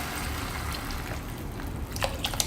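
Tamarind water is poured into a simmering anchovy fish curry, a soft gushing splash over a steady background hiss, with faint clinks near the end.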